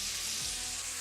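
Shrimp sizzle gently on low heat in a pan with chili flakes and parsley, a soft steady frying hiss alone and fairly quiet.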